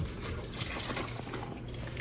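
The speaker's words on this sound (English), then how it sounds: "Now it's time for the chicken broth. Okay, so pick this up. And pour it out." Chicken broth is poured into a cooking pot for a seafood sauce, a soft continuous splashing gush of liquid lasting about two seconds, faint and without talk.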